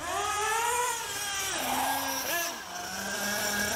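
A motorboat engine with a pinging fault drones loudly up close, its pitch rising and then dropping as it speeds past on a high-speed pass, with a steady whine throughout.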